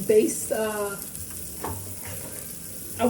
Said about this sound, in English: I'm going to take any of the butter remnants that I have in here, and baste it